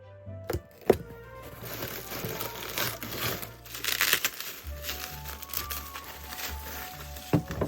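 A package holding a doll head is torn open during unboxing, with close crinkling and crumpling of plastic and paper, a few sharp rips and snaps, and a low hum underneath; no talk.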